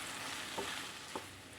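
Soya chunks frying in a pan over a low flame, a soft steady sizzle with two brief scraping stirs.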